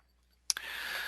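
A couple of mouse clicks on OK buttons in data-configuration software, two sharp close ticks in quick succession followed by a steady faint background hiss.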